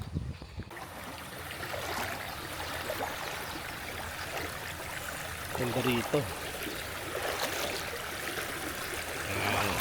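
Clear stream water at a campsite in Botolan flows and trickles steadily throughout, a continuous broadband wash with a few splashes near the middle, while people talk over it.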